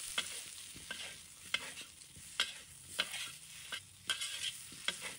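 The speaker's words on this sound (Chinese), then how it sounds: "再加入适量的葱花， 翻炒一下" Pumpkin stir-fried with chopped scallions in a wok, a quiet sizzle under regular spatula scrapes and clacks roughly every half second, close and rhythmic, with no voices.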